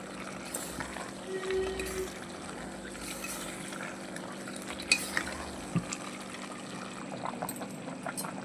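Chicken masala being stirred and mixed in a pot as water is poured in, a steady wet churning and sloshing with a few sharp clinks of the spoon against the vessel, close and moderately loud, with no talking.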